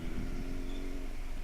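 Big sport motorcycles, including a Yamaha R6, rumble steadily on a Sunday morning group ride in Makassar, a continuous low engine drone heard close for a brief moment.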